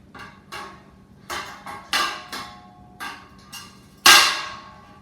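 Metal grill grate being set into a Weber Jumbo Joe 18-inch charcoal grill, a series of sharp clanks and rattles at irregular intervals, ending in one louder ringing clang.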